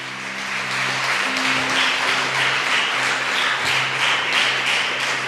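A congregation claps in a church service: steady, dense applause fills the space throughout, with a low sustained tone running underneath.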